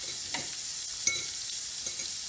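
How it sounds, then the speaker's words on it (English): A knob of butter melts in a frying pan over medium-high heat, giving a steady soft sizzling hiss with a few faint pops, close by and alone without talk. "get your pan on a medium-high heat. Add a good knob of butter."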